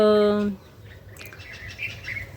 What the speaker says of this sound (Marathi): पक्षी उठलेले आहे मस्त उडाले